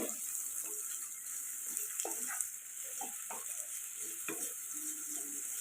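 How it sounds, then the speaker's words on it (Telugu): Ivy gourd sizzles gently in a pan nearby, with intermittent scraping and clinking as it is stirred. "ఒక పక్క దొండకాయలు అయితే ఫ్రై అవుతున్నాయి కదండి"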